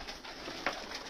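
Pigeons in a loft, part of a flock kept by a fancier and including white-tailed birds, with a soft cooing swell over steady low background noise and one brief louder burst midway.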